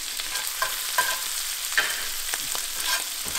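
Capers sizzle in a frying pan over medium heat, a steady close hiss with small crackles and pops, with no voices.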